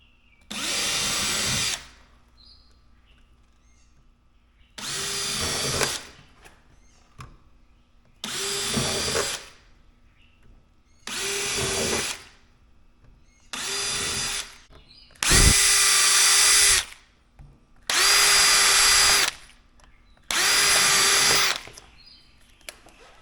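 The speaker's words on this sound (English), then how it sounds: "drilling 1/16 of an inch pilot holes for my screws." A power drill whirs in eight short bursts of about two seconds each, separated by brief pauses, loud and close, drilling 1/16-inch pilot holes for screws while sealing crawl space vents with Lexan.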